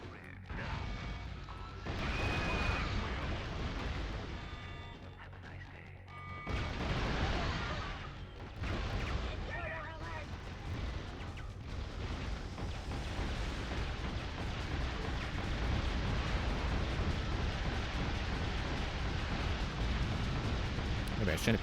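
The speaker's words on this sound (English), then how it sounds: "Maybe I shouldn't be shooting the Titans." Gunfire aimed at Titans in the video game Metal Arms, a long, dense stretch of continuous shooting and explosive blasts with brief dips, loud and chaotic throughout, while a voice speaks over it.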